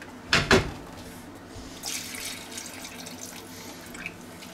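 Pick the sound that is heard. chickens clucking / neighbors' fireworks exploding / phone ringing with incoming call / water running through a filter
water running through a filter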